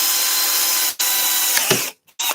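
A power drill bores through a clear acrylic sheet clamped in a vise over plywood, running at fast speed as a loud sustained whine with a brief break, then cutting out near the end with a short burst after.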